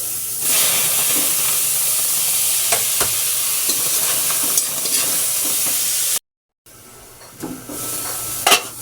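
Tomatoes sizzle in a little oil in a pan, a continuous close hiss with stirring scrapes and clatters, broken by a short silent gap before the frying resumes.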